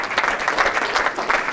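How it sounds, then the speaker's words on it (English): Audience applause rings out after a performance, a dense steady wash of many hands clapping close by for the full stretch, with no voices over it. "Give her a big round of applause"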